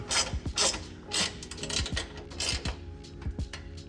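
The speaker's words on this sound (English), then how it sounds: "gonna take these and just tighten them up" A half-inch socket and box wrench tighten nylock nuts on chassis frame braces, producing repeated close ratcheting clicks and metallic turning bursts in a steady working rhythm.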